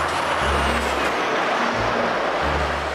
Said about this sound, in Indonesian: yang ini ada mobil towing lagi